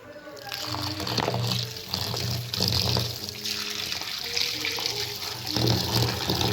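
Water poured over shredded radish to soak it runs and splashes in uneven bursts, close and fairly loud, with a faint low hum underneath.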